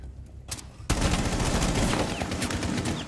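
Rapid bursts of automatic gunfire in Rainbow Six Siege, loud and close, erupt after a short quieter lead-in and continue as dense sustained shooting.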